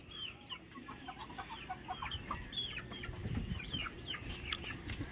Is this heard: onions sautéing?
no